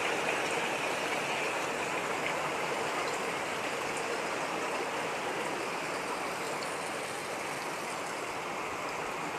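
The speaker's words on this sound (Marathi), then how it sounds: "इकडे सुद्धा घरामध्ये पाणी जायला सुरुवात झाली आहे" Floodwater rushing steadily through flooded streets during heavy monsoon rain in Alibag, a continuous broadband wash of flowing water and rain, fairly loud and unbroken with no voices.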